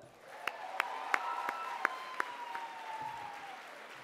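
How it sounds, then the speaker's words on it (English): A graduation audience gives distant, sparse applause with scattered sharp individual claps over a faint murmur of the crowd, and the clapping fades away after a few seconds. "Let's have a round of applause for that"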